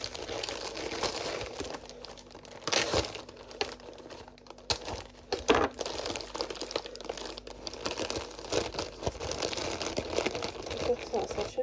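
Close, continuous crinkling and rustling of packaging while a parcel box is being opened, with scattered sharp crackles and taps and a voice speaking briefly nearby.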